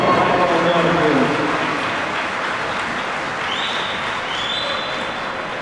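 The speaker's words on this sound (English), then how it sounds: "Big round of applause." Boxing event crowd gives a big round of applause, a dense continuous roar of clapping that starts loud and eases slightly, with a voice speaking over it.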